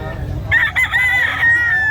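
Young rooster at a pet market in Bocaue crowing once, loud and close, a sustained strained call after a moment of low background noise.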